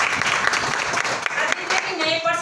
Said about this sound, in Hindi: एक बार सीमा जी के लिए जोरदार तालियां।